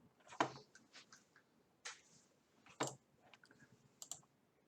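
A very loud computer mouse clicking: a handful of sharp, separate clicks at an irregular pace, close and clear against a quiet background.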